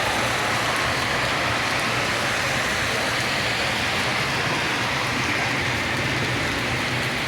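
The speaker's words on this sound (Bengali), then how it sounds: "প্রচুর বৃষ্টি হচ্ছে" Heavy rain pours down in Riyadh, Saudi Arabia, a dense, loud and unbroken hiss of rainfall on surfaces, with no talking.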